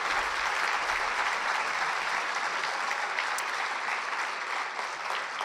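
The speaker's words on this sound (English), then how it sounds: "please join me in a round of applause for Toli Mulitawa Opele, Pat Frome, and Hank Cochran" Loud, steady applause fills a community awards ceremony honoring local heroes, a dense crowd clapping continuously without a break.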